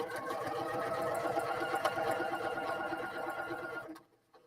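A domestic sewing machine runs steadily while backstitching a corner on a reversible project, a dense continuous mechanical whir lasting about four seconds before stopping abruptly into near silence.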